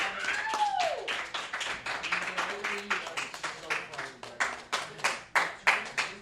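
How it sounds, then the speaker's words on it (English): Live comedy dating-game show audience clapping in a slow, deliberate rhythm, distinct loud claps roughly every half second that grow sharper and more spaced, with voices talking over the start. "Now your claps are getting sarcastic"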